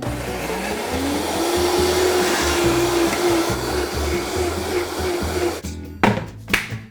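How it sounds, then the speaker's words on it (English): A blender whirs loudly and steadily as it purees corn, its motor pitch rising briefly, then stops, followed by a few clunks and knocks. "Okay, so I need my blender."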